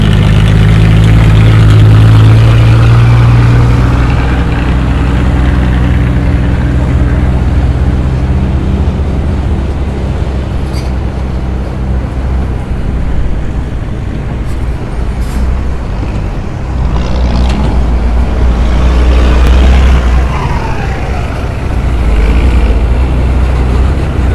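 Excavators and ten-wheel dump trucks working a soil dumping site at Buriram airport, a loud, constant diesel engine rumble with idling and revving, plus faint hisses and clanks.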